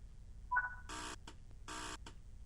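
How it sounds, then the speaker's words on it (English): A guard's buzzer sounds in the train simulator Train Sim World 3, two short bursts of harsh buzzing heard faintly and cleanly over a quiet cab hum. "We'll get a buzzer in a second."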